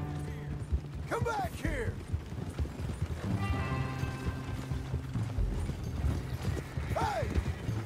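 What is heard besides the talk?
horse hooves in Red Dead Redemption 2 video game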